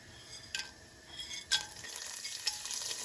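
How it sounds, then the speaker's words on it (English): Cardamom pods, cloves and cinnamon sizzling in hot oil for a chicken curry, a soft steady frying hiss with a few faint stirring clinks, heard alone. "the cardamom pods, and the cinnamon. Let that heat up a little bit. So it's sizzling."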